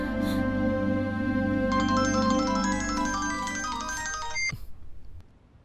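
An incoming-call ringtone from a phone in a Hindi-dubbed South Indian action movie plays a bright, repeating electronic melody over a low droning score, then cuts off abruptly.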